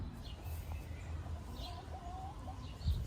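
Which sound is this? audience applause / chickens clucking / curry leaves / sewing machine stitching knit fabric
chickens clucking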